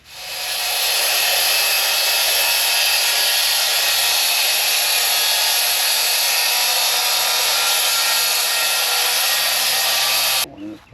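A circular saw cuts a board lengthwise for a backyard chicken coop, producing a loud, continuous high whine for about ten seconds that stops abruptly at the end, with no talking.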